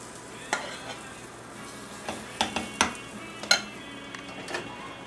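A batch of food fries in a pan with a low, steady sizzle, broken by several close scraping and tapping strokes of a utensil against the pan, with no talking.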